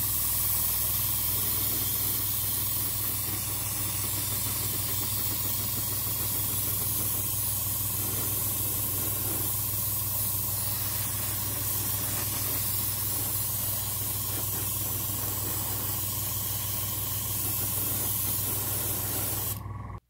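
An aerosol can sprays a dark grey coat onto a scratchbuilt starship model in a long, continuous, close hiss that holds steady for the whole stretch before cutting off.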